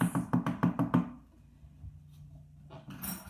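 Six quick, evenly spaced taps of two pens on a hollow box, close and crisp, followed by a quiet pause and a brief rustle.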